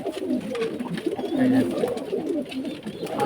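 Soft, low coos from a sick pigeon repeat steadily over a continuous background murmur, fairly close and moderately loud.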